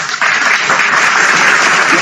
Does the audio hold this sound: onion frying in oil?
no